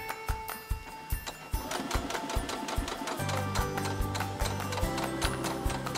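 A sewing machine runs in quick, steady mechanical stitching bursts, a rhythmic clatter that grows busier and denser after a few seconds.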